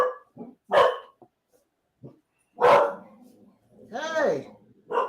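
A dog being dog-sat barks in several sharp separate bursts with gaps between, then gives a higher whining yelp, loud and close indoors, with a person's voice mixed in among the barks.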